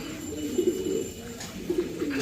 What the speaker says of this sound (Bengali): একজোড়া লাল মেঘ পাই পোটার কবুতর